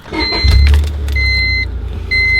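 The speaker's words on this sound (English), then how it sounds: "I'm gonna just turn the car on" A car engine turns over and catches, then settles into a steady low idle, close and loud, with a high electronic tone chiming on and off.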